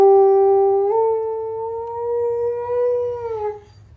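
A dog lets out a long, sustained howl that holds steady for about four seconds, rising slightly partway through before trailing off, loud and close with no talking over it.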